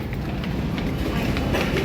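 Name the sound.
train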